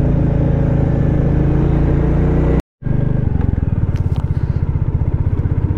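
Motorcycle laboring up a steep, potholed, stony mountain road on the route from Sonmarg to Leh in first and second gear, its loud, close engine thumping steadily, cutting out for a moment, then pulsing again.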